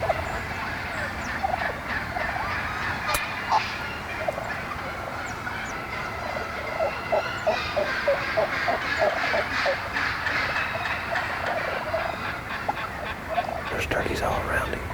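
Wild turkeys gobble repeatedly from several spots nearby, bursts overlapping against a constant outdoor hiss, with a louder rustle at the end.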